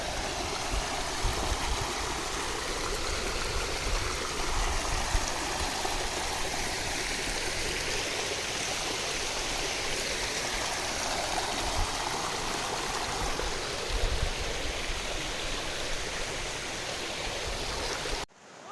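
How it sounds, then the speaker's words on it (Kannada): Water rushes steadily at Benki Falls near Kanakapura, the flow running low. It makes a loud, continuous broadband roar that holds unbroken for the whole stretch, with no voices, and cuts off abruptly at the end. "ನೋಡಿದ್ರಲ್ಲ ಹಿಂದ್ಗಡೆ ನೀರು ಸಖತ್ತಾಗಿದೆ"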